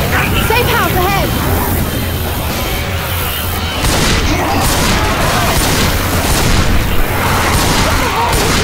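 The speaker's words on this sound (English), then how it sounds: "Stop shooting!" Gunfire and booming blasts in the Left 4 Dead 2 video game, loud and continuous throughout, with characters shouting over the dense noise.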